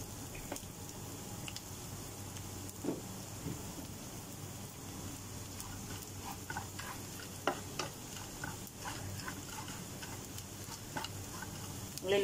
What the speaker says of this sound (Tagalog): Kasi sinangag ko lang siya sa kawali.